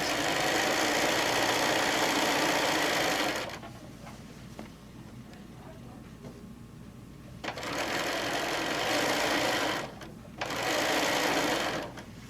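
A sewing machine stitching quilt layers made from layer cakes in a Jubilee pattern runs in close, loud bursts: a long run, a pause with faint handling, then two more runs split by a short break.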